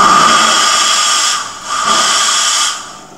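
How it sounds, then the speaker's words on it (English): A Jetsteam steam cleaner on its high setting blasts a loud, steady hiss of steam that dips briefly midway and then surges again, with no voices. "So now we've got steam coming out, lots of steam coming out"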